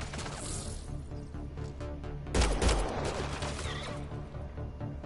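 Gunfire in the sci-fi video game Mass Effect Andromeda, a dense, loud burst of shots and impacts over game music and ambience, peaking midway and trailing into softer combat noise.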